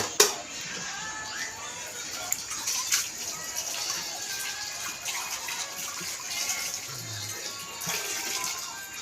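Dishes being washed at a kitchen sink under a running tap, with a steady broadband wash of flowing water and small clinks and splashes throughout.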